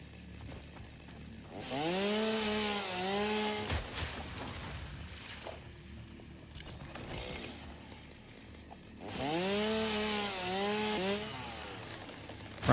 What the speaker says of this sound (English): Oh damn, got chainsaw straight away